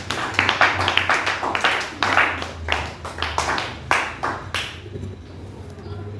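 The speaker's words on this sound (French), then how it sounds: "Amen, on acclame pour la gloire du Seigneur." A church congregation claps in an irregular, lively patter of many hands at close range. The clapping goes on steadily for several seconds, then thins out and fades toward the end.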